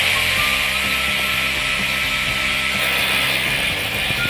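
A heavy-duty cordless battery drill running steadily close by while mounting an outdoor speaker, a continuous mechanical whir with a ratcheting, clicking texture throughout and no talk.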